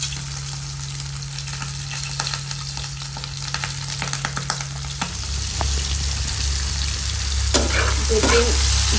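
Food fries in a pan in a home kitchen, a steady close sizzle with scattered crackles and spits, a low hum underneath and a brief clatter near the end.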